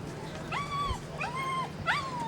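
Dog whimpers close by in three drawn-out, high whining cries over a low background hum.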